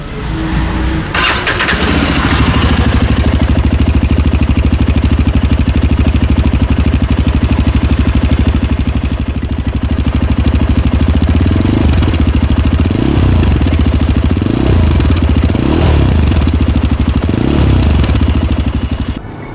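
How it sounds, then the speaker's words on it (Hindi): A 2025 Yezdi Adventure motorcycle starts and idles close up, its exhaust giving a loud steady thumping drone, with a few brief blips of the throttle near the end. "अभी हम आपको इसका ESD एडवेंचर का एग्जॉस्ट का साउंड सुनाते हैं। ये आपका साउंड है ऐसा।"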